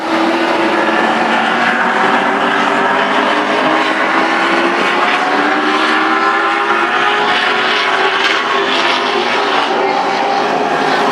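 Race cars roar down the front straightaway at Shangri-la 2 Speedway, a loud, continuous blend of engine drones rising and falling in pitch as the pack passes, with an announcer talking over it.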